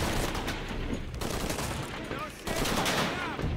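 Gunfire in Shadow of the Tomb Raider: a dense, loud stream of rapid shots and explosive bursts, with a player's voice shouting over the battle noise.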